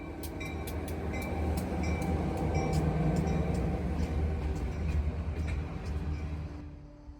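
A New Hampshire Northcoast Railroad freight train rumbles steadily past, its low, continuous roll laced with sharp rhythmic ticks and clanks from the cars, fading slightly at the end.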